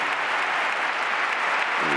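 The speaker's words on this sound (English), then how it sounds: "The whole stadium on their feet applauding, Caparrós included." Sevilla stadium crowd on its feet applauding after the club hymn at a Sevilla versus Barcelona football match, a dense, steady roar of clapping throughout, with a brief voice near the end.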